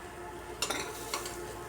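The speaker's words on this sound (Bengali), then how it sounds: "আলুগুলো ভেজে নিয়েছি, এগুলোকে উঠিয়ে নিচ্ছি এখন।" Potatoes frying in oil for a fish-head curry, a quiet steady sizzle with two short bursts of spatula scraping and stirring against the pan, close up and without speech.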